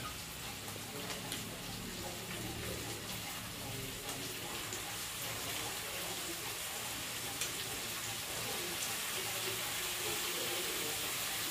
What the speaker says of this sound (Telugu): దీనిలో ఇప్పుడు ఈ వంకాయ ముక్కలు వేసేస్తున్నాను